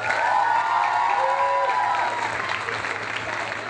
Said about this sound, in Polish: Wielkie brawa na Belindę Snell